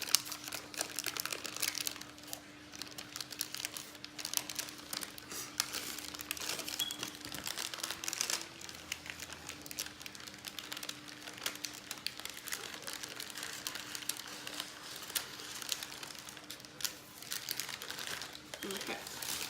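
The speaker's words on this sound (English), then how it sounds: "we're just going to pull on the paper until it comes loose" Baking paper is slowly peeled off a freshly baked rolled sponge cake, making continuous soft crinkling and rustling close up, with a voice talking quietly now and then.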